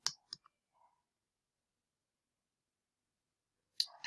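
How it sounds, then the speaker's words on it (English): A single sharp mouse click on a microphone icon, near and dry, with a second softer tick just after and near silence otherwise, while giving recorded feedback in a Google Doc. "So I click on the microphone icon."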